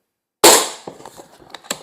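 A single sharp shot from an Umarex Iconix .22 PCP air rifle fired at a paper target, a loud crack followed by a short decaying tail and a few faint clicks and knocks afterward.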